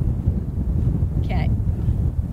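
Wind gusting at an outdoor long-range rifle shooting position, a steady low rumbling buffet against the microphone throughout, with a brief short voice near the middle.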